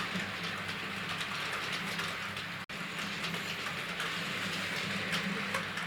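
A 1967-version Hornby Brighton Belle model train runs with its driving car pushing from the back, giving a steady close rolling rumble and continuous clickety-clack over the track, with one brief dropout midway.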